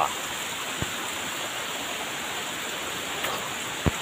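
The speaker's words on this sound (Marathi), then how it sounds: "हे आहे मध्ये घाटचा धबधबा" Madhe Ghat waterfall: a steady, broad rushing roar of falling water fills the scene without pause, broken only by a few faint knocks.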